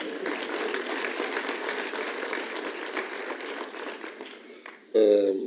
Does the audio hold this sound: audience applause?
yes